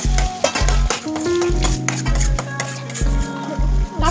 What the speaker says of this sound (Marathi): आता आपल्याला शेंगा टाकायचा आहे आणि बटाटा टाकायचा.